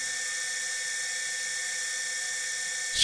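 A rotary tool fitted with a Cratex rubberized abrasive stick whines at a high, steady pitch while cleaning up the threads on a 5C collet draw nut, loud and continuous, rising slightly at the end.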